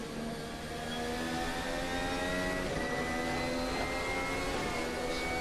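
A Formula Alpha Pro 2025 race car from Virtual Racing Cars in the Assetto Corsa sim racing game holds a steady, high-pitched engine whine at sustained revs, smooth and continuous with no talk.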